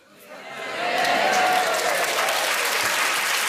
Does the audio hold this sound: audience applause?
yes